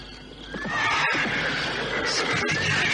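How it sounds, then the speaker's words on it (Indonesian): A horse neighs repeatedly in a long, loud whinny, with faint hoof clops and a busy dramatic background around it. "Kuda itu kini terus meringkik."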